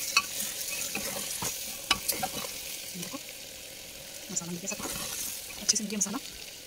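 Spices being stirred into browned mutton in a pan, a spoon scraping in short clustered strokes over a soft steady sizzle, close and moderate, with no talking.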